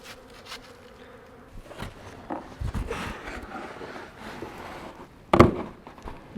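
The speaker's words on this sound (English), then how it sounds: "Man, look at the bees in there." Honeybees buzz softly and continuously close by in an open, starving hive, with scattered knocks and rustling handling noises and a sharp clatter near the end.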